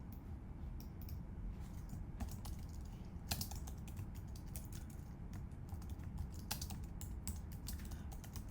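Steady typing on a computer keyboard while a title is entered for a webpage built in Adobe Acrobat, with quick clustered key clicks running throughout at close range and no voices.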